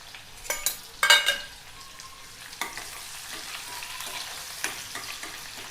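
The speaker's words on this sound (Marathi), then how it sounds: "मोहरी जिरं तळतळली की त्यामध्ये आपण हा कांदा टाकणार आहोत।" Cumin, mustard seeds and onion frying in hot oil, a continuous sizzle with crackling spits and stirring clinks near the start, close and moderately loud, with no talk.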